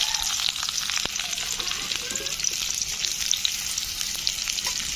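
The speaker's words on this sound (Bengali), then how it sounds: "এবারে আমি পেঁয়াজগুলো ভেজে নেব" Onions frying in hot oil in a pan, cooking for a bangla-style pumpkin mash: a loud, dense, continuous crackling sizzle with occasional stirring scrapes, close by and without voices.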